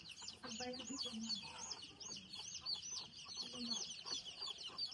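Chicks and chickens on a poultry farm cluck and cheep over and over in a dense, continuous chorus, close by, with a faint voice underneath.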